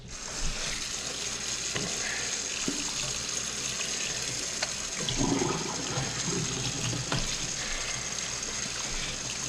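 Water splashes steadily over a raw turkey being rinsed to clear out the giblet sack, a continuous close wash with a few louder gushes and thumps partway through.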